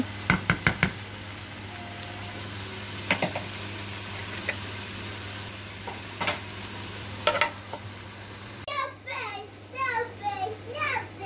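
A spatula clacks and scrapes against a pan while potato curry is stirred, giving scattered sharp knocks over a faint sizzle, with a voice talking near the end.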